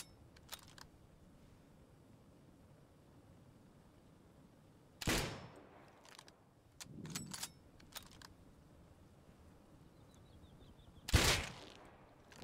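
Gunfire in the Rust video game, cracking out in two sharp, loud isolated shots several seconds apart, with fainter clicks and thuds between them and no speech.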